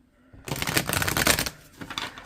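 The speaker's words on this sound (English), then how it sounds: "Just gonna shuffle this 3 times." A burst of rapid riffling and flapping as a stiff, new deck of tarot cards is shuffled close by, pausing briefly before a shorter second riffle.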